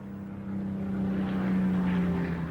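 A Hawker Hurricane fighter plane's propeller engine drones at a steady low throb, swelling slightly louder mid-way, a continuous airborne rumble with no talk over it.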